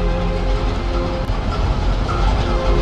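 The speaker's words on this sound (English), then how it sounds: "Yeah, I see the train." A steady, loud rumble of a train rolling past nearby, constant and droning throughout with no voices.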